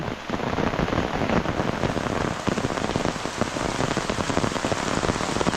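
Heavy rain pours down steadily and loudly on a vegetable farm plot during cucumber planting, drumming on a hard surface in a dense, unbroken roar with no voices.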